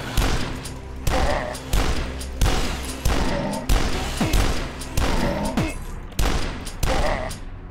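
Dual-wielded shotguns blasting in the retro shooter Dusk, about eight heavy booming shots in a steady paired rhythm, loud and close, with no talking.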